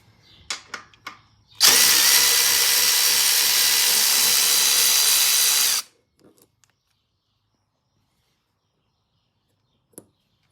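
A power tool backs out 8mm fuel tank bolts on a 1983 Honda XR500 motorcycle: a few light clicks, then one loud continuous whirring burst lasting about four seconds before stopping abruptly, followed by faint taps.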